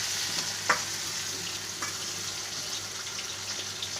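Prawns fry in a pan with a steady, moderately loud sizzle and a few brief scraping or stirring clicks, with no one talking.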